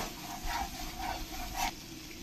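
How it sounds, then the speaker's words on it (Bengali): Quiet, rhythmic scraping strokes from fried masala being stirred in a pan, three soft passes over a faint low sizzle. "এবার আমি ভালো করে একটু নাড়িয়ে নেব"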